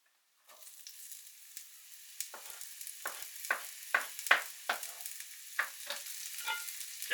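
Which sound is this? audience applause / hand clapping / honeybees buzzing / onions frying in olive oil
onions frying in olive oil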